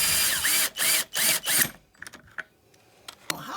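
A power drill tightening fasteners during a roll cage install, four loud whirring bursts in quick succession followed by scattered clicks and clunks of handling.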